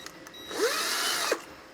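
A brief whir of a power drill spinning up and running for about a second before stopping, close by, with no voices.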